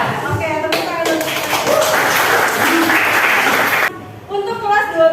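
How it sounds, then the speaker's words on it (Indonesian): A classroom of twelfth-grade accounting students claps together in a dense burst of applause lasting several seconds, then fades as a voice speaks over the end. "Oke, tepuk tangan dulu."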